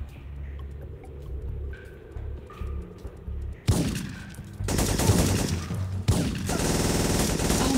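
Shotgun blasts in the video game Syphon Filter 3, loud sharp bursts in rapid succession after a quieter stretch of low rumbling ambience, with dense overlapping gunfire filling the second half.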